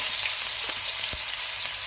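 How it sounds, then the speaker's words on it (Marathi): Spiced fish pieces, bombil, go one by one into a hot tawa with heated oil, producing a loud, close, continuous sizzle broken by a few sharper sputters. "हे बघा, आपण आता तव्यामध्ये एक एक करून मच्छी टाकूया"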